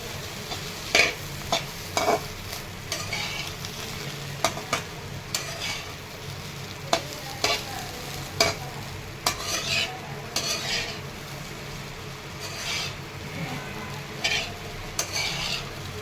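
Crunchy pieces of fried stale bhakri being stirred with coriander in a pan, a steady low sizzle broken by frequent scraping and clinking strokes of a spoon against metal, irregular and close, no voices.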